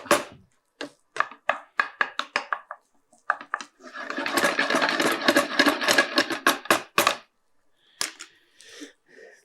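A knife chops through egg rice mixed with roasted gram and coriander leaves on a board, first in quick crisp taps, then a dense rapid flurry, then a few final knocks, close and loud.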